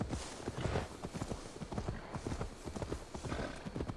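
A horse's hooves clip-clop at a steady gallop in the Assassin's Creed Valhalla video game, close and continuous over a rushing wind-like background.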